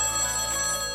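A telephone rings in a home, a steady bright electronic ring with layered tones filling the whole second, loud and close with no talk over it.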